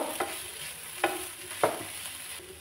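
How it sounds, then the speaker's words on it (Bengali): Vegetables for a paratha sandwich sizzle quietly in a pan while a spatula scrapes through them in three distinct strokes, with no talking. "এবার ঢাকাটা খুলে দেখে নেব। হালকা করে একটু নেড়ে নেব।"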